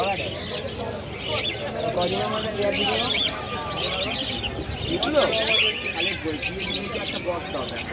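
Many birds, including cockatiels and lovebirds, chirp and tweet continuously at the Dakshineswar bird market, a busy, crowded space, with people talking nearby underneath the constant chatter.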